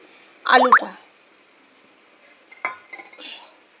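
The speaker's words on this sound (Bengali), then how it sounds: "আলুটা দিয়ে দিলাম" Potatoes go into a cooking pan with a quick clatter and clink of metal, followed a couple of seconds later by softer scraping and knocking, close and brief.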